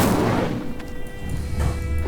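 The Incendio fire spell is cast in Hogwarts Legacy: a short, close burst with a booming whoosh that fades over about two seconds.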